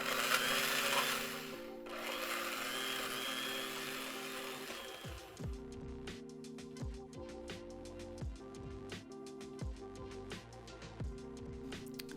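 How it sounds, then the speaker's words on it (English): A kitchen blender whirs through zucchini muffin batter ingredients, a loud steady motor drone for the first few seconds that then drops into intermittent clunks and softer chopping pulses. "So now blend all of your ingredients together."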